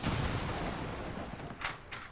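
Rocket explosion in the XCOM 2 video game (Long War of the Chosen mod): a sustained, booming rumble of blasts, with two sharper bursts crackling near the end.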